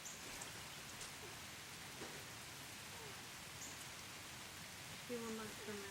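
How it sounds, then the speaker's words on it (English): Quiet, steady rain falls outside a grandmother's house, a soft even patter that runs the whole time with a brief faint sound near the end. "Is it raining, Jack?"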